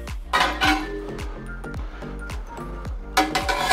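A lid is set on a cooking pot on a gas stove, with several metallic clinks and rattles of metal and glass, close and moderately loud, followed by more clattering near the end.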